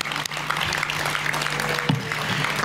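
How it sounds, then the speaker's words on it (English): Audience applause at the 2019 Global Gift charity gala in Marbella, a loud, dense wash of clapping that fills the short stretch without a break, with a voice briefly showing through. "Please, a big applause."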